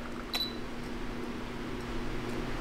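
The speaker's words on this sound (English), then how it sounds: "it's 18 millimeter, and it's auto-focusing right now" Sigma 18-35 lens autofocusing on a camera at 18 mm: a brief faint whirring tick from the focus motor near the start, then a quiet background hum.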